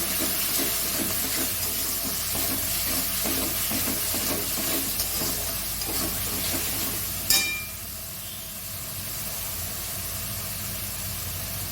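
Salted masala for an aar fish curry is sautéed in a pan with repeated scraping stir strokes over a steady sizzle, close by, then a sharp clank and a quieter, calmer hiss afterward.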